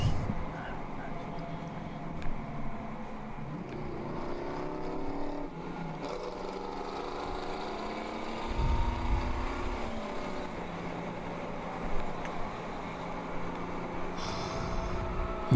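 Race cars including a Triumph TR6 and a Mustang lapping Harris Hill during an endurance race: engine drones and passing revs with downshift bursts, heard under steady commentary.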